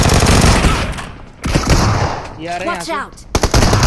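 Shotgun fire in the mobile battle royale game BGMI, with loud blasts going off in bursts and a voice briefly speaking over the gunfire.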